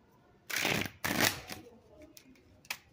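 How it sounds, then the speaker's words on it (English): Tarot cards are riffle-shuffled close up in two quick bursts, followed by softer shuffling and light handling taps. "I'll shuffle once more, and then we'll get into your messages."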